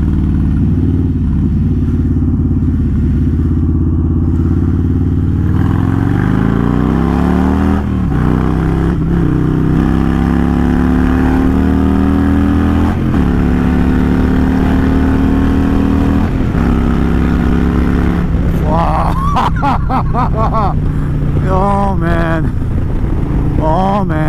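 A Harley-Davidson Stage 2 117 cubic inch engine with a Star 30/30 cam and a cable throttle to the carburetor revs hard and close, its loud drone climbing in pitch, then crackling and popping as the throttle snaps.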